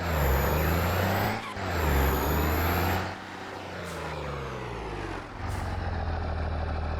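Turbo whine from a vehicle engine in Farming Simulator 22: a steady, high-pitched whistle over a deep, loud engine drone. It dips briefly twice, then settles into a rougher, lower running sound, with no talking.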